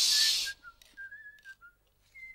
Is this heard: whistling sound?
yes